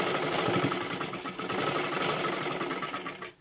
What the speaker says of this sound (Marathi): पहा अशी सरळ खालीपर्यंत शिलाई मारून घ्या